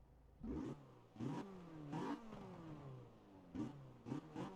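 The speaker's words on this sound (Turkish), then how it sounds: "ufaktan bir ara gazı verelim" A BMW M3 engine in the video game Forza Horizon 4 revs repeatedly in short bursts, each roar rising then falling back to idle, about six revs with pauses between.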